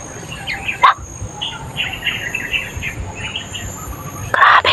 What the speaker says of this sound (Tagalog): Tingnan niyo yung mga ibon.